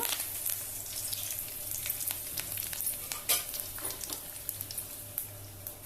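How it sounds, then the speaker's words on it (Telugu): Lentils, curry leaves, garlic and chillies roasting in a pan, a bright continuous sizzle with scattered crackles and stirring scrapes, close and fairly loud with no talk. "తెల్లగడ్డ మిరపకాయ ఇవన్నీ కొంచెం దోరగా వేసుకున్నాము"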